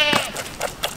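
A baby Kiko buckling goat bleats repeatedly during bottle feeding, with several short, loud, quavering cries spaced through the moment.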